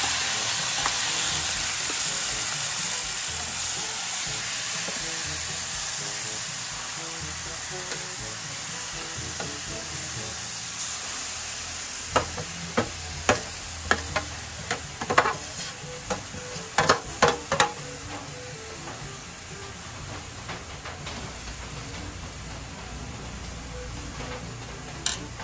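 Papaya mixed with vinegar and soy sauce frying in a pan, a steady hissing sizzle throughout, joined midway by a cluster of sharp clicks and scrapes from stirring.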